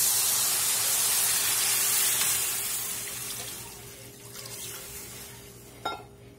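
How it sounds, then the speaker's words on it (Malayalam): A cup of water poured into a cooking pan on the stove, giving a steady splashing pour that sputters and fades over several seconds, then a brief clink near the end, with no voices. "ഞാൻ ഒരു കപ്പ് വെള്ളം ഒഴിച്ചു."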